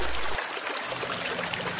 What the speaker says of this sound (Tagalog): rinig na nga ang agos ng ilog